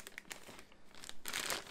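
Packaging for an Ultimarc U-Trak trackball being opened, giving quiet, close crinkling and rustling with a few crisp bursts of crumpling plastic or paper. No voices are heard.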